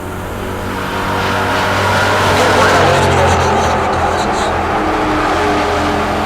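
An Apache truck and a Mustang in the 14.0 class make a drag-strip run at Heartland Park Topeka. Loud engine roar swells after the first second and holds strong, with a track announcer speaking over it.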